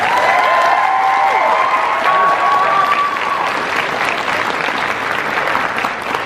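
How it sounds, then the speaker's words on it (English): Sustained audience applause at a convention, a dense wash of clapping that fills the room from start to finish with a faint tonal whine running beneath it. "So a round of applause for that."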